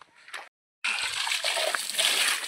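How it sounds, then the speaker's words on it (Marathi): A motor pump sends water splashing into a water container set out for birds on a farm: a brief splash, a short pause, then a steady, close, continuous gushing. "चला मोटर चालू करून पक्षाला पाणी भरून ठेवतो"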